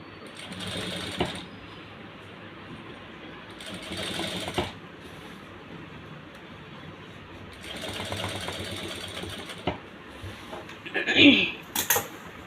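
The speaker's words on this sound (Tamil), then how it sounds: "இது மேலேயே வந்து இந்த ஓரமாக அப்படியே தைங்க" A sewing machine stitches along the edge of a garment neckline in short bursts of fast, rattling whirring separated by pauses. A few sharp clicks and clacks come near the end, all close by, with occasional quiet talk.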